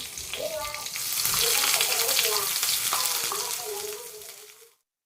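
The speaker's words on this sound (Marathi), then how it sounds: "काही सेकंद मसाला परतून घेऊया" Ground spice paste sautés in hot oil with cumin, curry leaves, a bay leaf and a piece of cinnamon, giving a loud, bright sizzle that swells and then cuts off abruptly.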